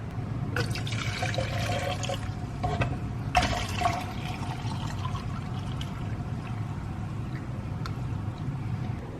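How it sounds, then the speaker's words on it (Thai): Descaling water poured back into a coffee machine's tank, a steady splashing, gurgling stream close by that runs continuously with a brief brighter surge partway through. "เสร็จแล้วเราจะเอา น้ำพวกนี้เทกลับเข้าไปในถังอีกรอบหนึ่ง"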